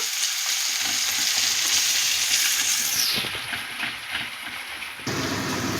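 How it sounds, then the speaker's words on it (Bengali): Sliced onion sizzles and crackles in hot oil in a pan while being stirred to brown for a mutton curry, a loud steady frying hiss that briefly drops before surging again. "পেঁয়াজটাকে একটু লাল করে ভেজে নেব"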